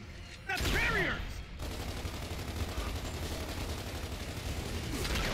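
Gunfire rattles in the shooter game Gears of War 2 during a firefight, a short burst of shots near the start followed by a dense, steady wash of combat noise.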